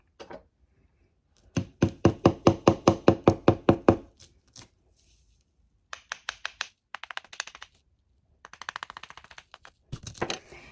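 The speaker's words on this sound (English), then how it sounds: "Having more luck with the chisel right now." Rapid, hard tapping strikes of a chisel on stone, in quick bursts of a dozen or so hits separated by pauses, close and crisp.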